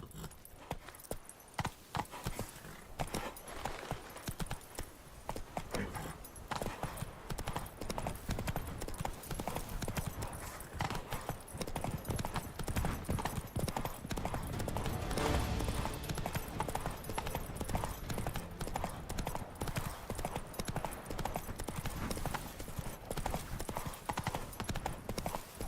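Roach, the horse in The Witcher 3 game, trots with a steady clip-clop of hooves that runs throughout, loud and continuous, with a brief whinny and light jangling tack in the background.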